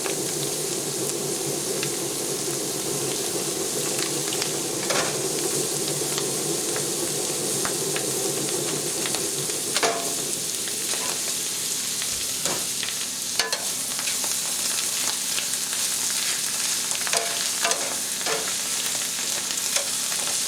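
Onions and chanterelle mushrooms cook in butter in a pan under a constant sizzle, while a utensil stirs them with repeated scraping clicks and taps.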